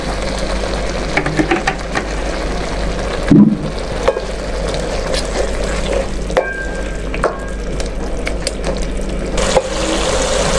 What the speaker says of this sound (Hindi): अब हम इसमें ऑयल ऐड करेंगे